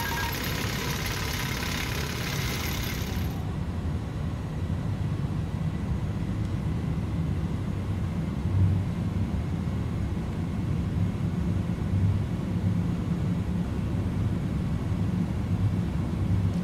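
Airliner engines roar steadily at high thrust during a go-around climb in Microsoft Flight Simulator, a broadband rumble with a brief high hiss at the start that cuts off, then a continuous powerful drone with no talk.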